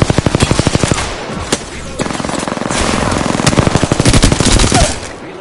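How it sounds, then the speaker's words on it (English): Rapid automatic gunfire in Apex Legends, loud and close, with dense bursts of evenly spaced shots running almost continuously and brief pauses between volleys. "I am taking fire, friend."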